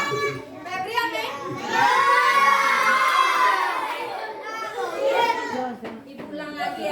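A group of schoolchildren at an elementary school shout loudly together in a sustained burst, with lively kids' voices and chatter around it.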